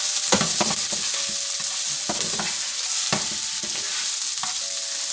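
Minced onion and pork sizzle and fry steadily in a pan, with occasional scraping stirs and utensil clicks over the constant crackle.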